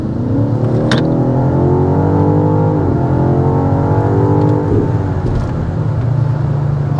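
A 2025 BMW XM's engine revs loudly under hard acceleration, its tone climbing steadily, then dropping at a shift and climbing again, heard close up from inside the car.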